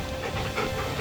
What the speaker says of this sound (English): I can pet the dog